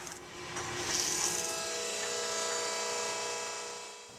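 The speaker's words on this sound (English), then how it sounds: "it is then sanded on its backside so that it operates correctly in the press" Sanding machine whirs steadily against the metal backside of a vinyl record stamper at a pressing plant, a continuous buzzing grind that swells slightly and fades near the end.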